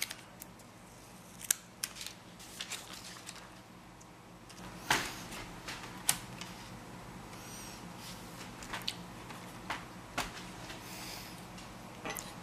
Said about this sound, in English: we're going to go ahead and take the plastic cover off before we get too far along replacing it into the metal framework